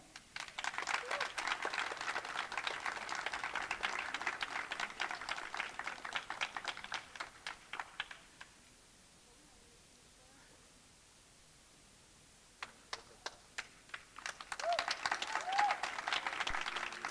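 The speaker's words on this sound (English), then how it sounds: "Let's give them another round of applause, ladies and gentlemen." An award-ceremony audience applauds, a faint, distant patter of many hands that fades to near silence before a second round of clapping starts up.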